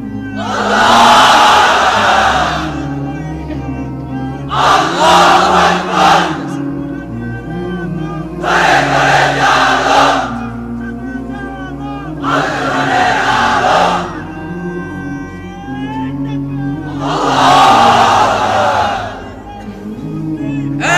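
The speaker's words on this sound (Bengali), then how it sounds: "এবার অবিবাহিতরা দাও লিল্লাহি তাকবীর" A large crowd of unmarried men at a religious sermon gathering roars the takbir chant in five loud, sustained bursts, each separated by a short pause.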